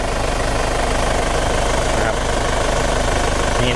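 An Isuzu D-Max pickup's 2.5-litre diesel engine idles steadily and loudly up close, with a constant low rumble and faint knocking rhythm throughout.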